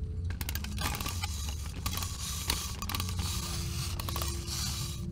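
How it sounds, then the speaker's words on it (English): Wind-up whirring cue for Lefty in the video game Pizzeria Simulator, a continuous mechanical ratcheting and creaking whir full of rapid clicks that runs without pause, with no voices. "And Lefty has some wind-up whirring."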